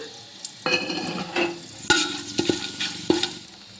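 Cashews and raisins fry in hot oil as a utensil stirs them around the pan, giving a steady close sizzle broken by several sharp scraping strokes and clinks over about four seconds.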